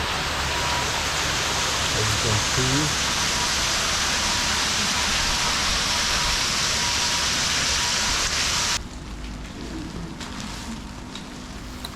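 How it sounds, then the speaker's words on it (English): Heavy rain pours in a dense, loud hiss in Goreme, Cappadocia, Turkey, with a voice briefly speaking underneath; the downpour drops suddenly quieter near the end. "Heavy rain."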